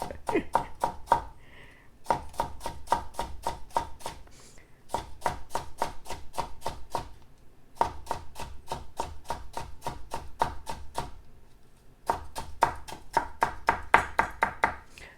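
A knife chops cucumber on a cutting board in quick, crisp bursts of evenly spaced strikes, close and clear, with brief pauses between runs.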